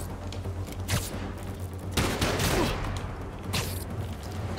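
Gang members fire guns in Marvel's Spider-Man 2 city streets, a few loud bursts of shots and booms rising over a steady hum of game ambience, with no speech over it.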